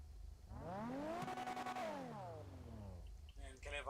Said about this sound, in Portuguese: A diferença do barulho desse carro já, mano. O motor rotativo é muito mais bonito.